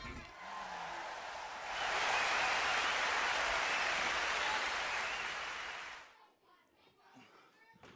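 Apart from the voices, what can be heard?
audience applause for contestants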